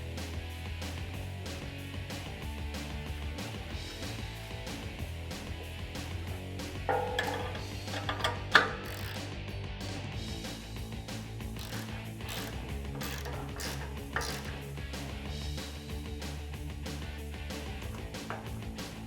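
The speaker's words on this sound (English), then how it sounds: "It holds the bolt head still while you're doing up the nut." Ratchet wrench tightening a nut on a winch bumper light mount for a RAM 1500 pickup: steady quick clicking of the pawl in continuous runs, close and moderately quiet, with occasional metallic clinks.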